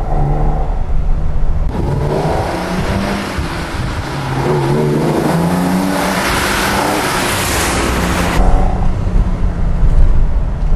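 A BMW 635 CS tuned by Hartge drives with its engine droning steadily throughout. The note swells into a louder, rising rev in the middle before settling back to a steady cruise, and no one speaks over it.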